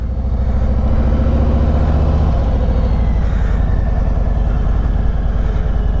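A Harley-Davidson Road Glide motorcycle engine runs loud and close with a steady, throbbing low-pitched rumble, holding an even idle throughout with no voices.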